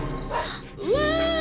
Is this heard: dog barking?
yes